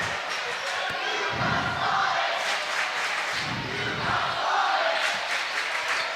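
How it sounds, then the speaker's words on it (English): Crowd noise at a high school boys' basketball game in a gym during an inbound play, with loud roaring swells and thumping bursts filling the space, no clear talk. "check that crowd on the inbound"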